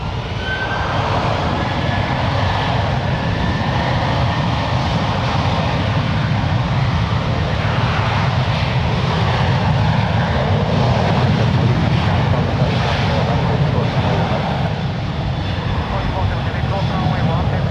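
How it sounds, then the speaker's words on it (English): A Southwest Airlines Boeing 737-700, 18 years old, departs runway 1 right at San Francisco International for Denver, its jet engines giving a loud, continuous broadband roar that holds steady throughout, with people talking over it. "This is Southwest Airlines Flight 1451 departing to Denver. It's an 18-year-old 737-700."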